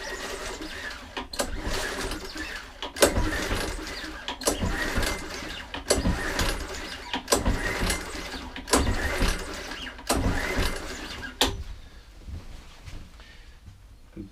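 A semi-seized Mountfield 164 lawn mower engine is pull-started repeatedly, about eight rhythmic rasping cranks with whirring bursts, loud and close, then a quiet pause.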